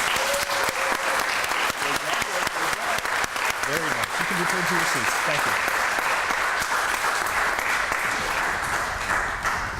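Sustained applause from a seated audience at a US Citizenship and Immigration Services naturalization ceremony, honoring the ceremony helpers; steady dense clapping fills the room for the whole span while an officiant speaks over it.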